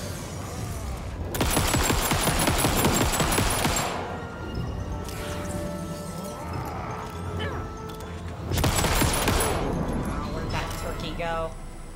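Video game gunfire in Alan Wake 2's Night Springs expansion: two loud bursts of rapid shots with ringing tails, separated by quieter ambient stretches, alongside speech.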